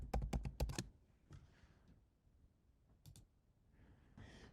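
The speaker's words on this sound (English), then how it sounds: "I type this all in caps." Quick clattering burst of computer keyboard keystrokes while entering capitalized text in Photoshop, followed by a few sparse, softer key taps and clicks in a quiet room.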